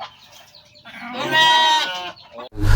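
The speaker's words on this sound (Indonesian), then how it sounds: "Ini domba yang dari BUMDes Ujung Genteng. Domba Garut." A Garut sheep gives one drawn-out, tremulous bleat, clear and fairly close, with a soft rustle before it and a thump at the end.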